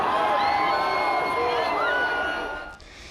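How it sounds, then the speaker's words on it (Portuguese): A large crowd of Palmeiras football fans chants together in a loud, sustained, sing-song roar that carries across an open space, fading slightly toward the end. "fogos e cantos para empurrar o time à distância"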